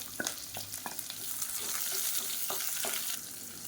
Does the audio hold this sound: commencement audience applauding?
no